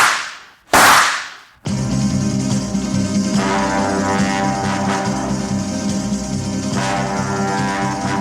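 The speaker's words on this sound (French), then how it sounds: "Je t'assure, Blanche, 2 coups de feu, tirés tout près d'ici" Two loud gunshots are fired close by, sharp back-to-back blasts within the first second and a half, followed by a quieter, steady background.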